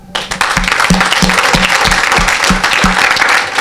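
A worship crowd claps loudly and densely to acclaim the Lord, with steady rhythmic beats and thumps under the applause, close and energetic.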